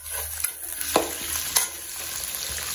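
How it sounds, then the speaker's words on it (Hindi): Sliced potatoes sauté in hot oil in a pan, with a steady close sizzle and several distinct stirring scrapes and clinks against the pan. "ये जाएगा तेल के अंदर, इसे बस थोड़ा सा मैं सॉटे कर लूँगी"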